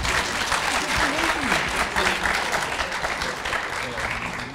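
Audience applause after a candidate finishes speaking at a student presidential debate: a dense, loud, sustained clapping crowd holding steady throughout, with voices faintly mixed in.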